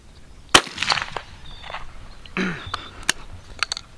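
A youth model 20 gauge shotgun fires a single sharp, loud blast outdoors, followed by fainter clicks, rustling and brief vocal sounds.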